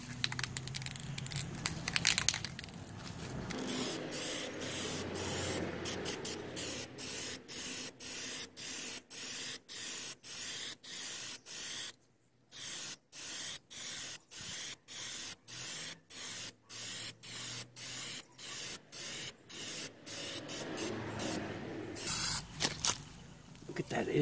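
Spray paint hisses from an aerosol can in a long run of short, even bursts, applying a second coat to a Honda Civic hubcap; the bursts stop briefly midway, then resume and fade before the end.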